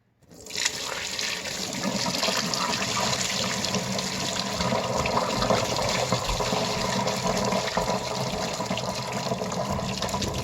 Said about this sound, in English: now we're going to drain the pot.